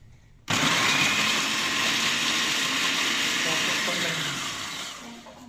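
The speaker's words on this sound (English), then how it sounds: "we're going to just crush up the biscuits. So we're going to use these in the food processor." A food processor whirs loudly and steadily as it crushes biscuits for a banoffee pie base, starting abruptly and running for several seconds with a dense motor roar and faint background voice.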